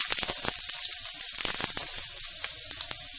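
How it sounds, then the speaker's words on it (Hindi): Onions frying in a pan for an egg bread sandwich, a steady bright sizzle with crackling pops scattered through it, close and fairly loud, no voices. "पियाज पकईदेली"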